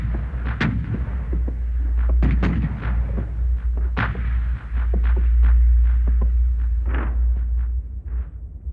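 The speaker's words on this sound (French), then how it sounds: "Coup de canon." Booming cannon fire thuds repeatedly, with several deep blasts and sharper reports scattered irregularly over a low, constant rumble.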